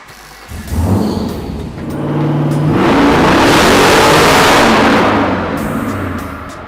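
The engine of a custom Factory Five truck build catches after a brief crank, then revs up in a long, loud, rising roar that holds and slowly eases off, close to the microphone.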